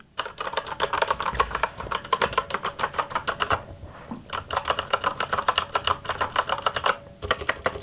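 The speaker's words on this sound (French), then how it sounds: "les switches MX RAID, par défaut, je vais vous faire écouter de suite" Steady, crisp clacking of a gaming keyboard's stock MX Red mechanical switches being typed on at a brisk pace, with two short pauses, close and clear with no voices.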